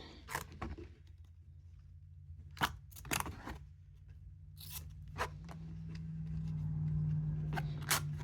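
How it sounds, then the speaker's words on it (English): Close snips of wire cutters clipping the twisted end of steel picture-hanging wire on the back of a wooden canvas frame, several sharp clicks spaced irregularly over a low steady hum. "I'm going to cut the end of this off because we don't need all of that"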